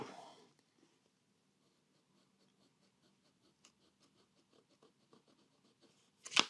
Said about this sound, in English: Just to show you how this medium nib writes compared to the medium nib on my Lamy 2000, let me just make some marks here